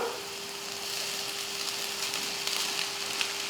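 Rice tipped into frying egg in a pan gives a faint, steady sizzle with light rustling and a few soft crackles, no voices.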